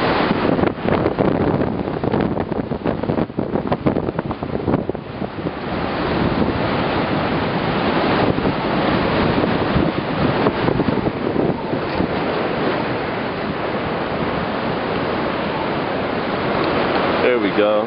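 Heavy ocean surf pounds during a November nor'easter, with large swells breaking continuously under strong, roaring wind buffeting the microphone; a person speaks briefly over the storm.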